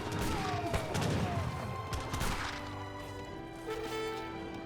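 Falconet cannon fire in an Age of Empires 3 battle: a series of sharp booming blasts and crashes in the first half, giving way to a steady battle din with a musical score.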